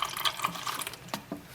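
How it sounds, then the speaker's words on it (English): Water drips from the gravity-fed tank of a Chuwi ILIFE V7S robot mop in a few quiet, close, irregular drops and trickles. "let the water drip down"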